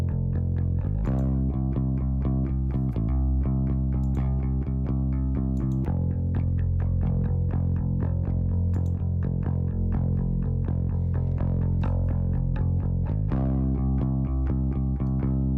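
A distorted bass line plays steadily in a rock mix of "Sharp Dressed Man", thick and rhythmic with driving repeated notes over drums, loud and continuous with no talking.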